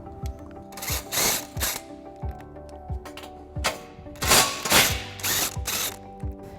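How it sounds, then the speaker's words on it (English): Ratchet with a 16mm socket backing out bolts on a 2018 Jeep Wrangler during a baseplate install for flat towing: rapid bursts of close, sharp clicking, each run lasting a second or so with short pauses between them and no talk. "we'll be removing these two bolts using a 16mm socket"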